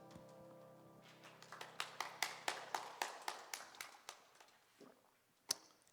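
A church congregation bursts into loud applause after a prayer, a brief ragged patter swelling into a dozen strong rhythmic claps that quickly thin out and stop, ending with one sharp final clap.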